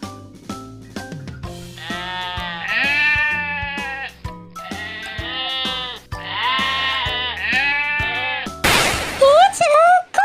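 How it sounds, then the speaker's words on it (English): A goat bleats in several long, wavering cries in a row, loud and close, ending with a higher, sharper call. "It's a goat."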